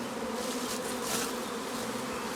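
Honeybees buzz at an apiary after two swarms have flown out, making a dense, continuous drone that stays close and steady throughout.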